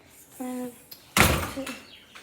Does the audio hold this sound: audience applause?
no